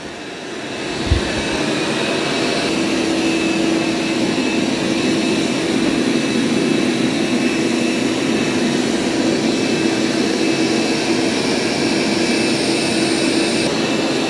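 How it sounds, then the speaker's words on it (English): Dreame robot vacuums, an L20 Ultra and an X30 Ultra, running on carpet: a steady, loud whirring hum with a faint tonal whine, continuous and unbroken after a brief bump near the start. "they both sound exactly the same when they're vacuuming as far as loudness"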